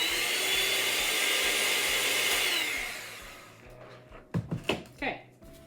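Electric mixer whirring steadily through lemon pound cake batter for a few seconds, then cutting off, followed by clatter and handling sounds, with a voice talking.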